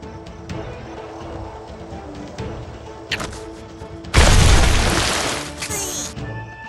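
A headshot hit in the Bowmasters video game lands as a sudden loud burst of impact noise over a steady game soundtrack, with smaller thuds beforehand and a bright ringing tail afterward.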